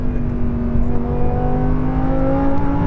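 Lamborghini Huracan LP580-2 engine revving hard under acceleration on a UK road, a loud, steady, rising engine drone with climbing harmonic tones held throughout, no talking.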